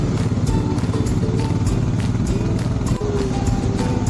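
A motorcycle engine drones steadily and close on a mountain road in North Sikkim's Yumthang Valley, with a constant low rumble and rattle throughout.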